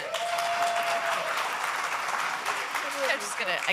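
A crowd applauds continuously at a Portland Timbers fan forum at Providence Park, dense clapping with some cheering mixed in, loud and sustained throughout.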